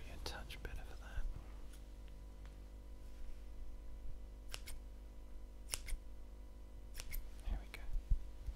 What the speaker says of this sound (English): scissors might be a touch better for that.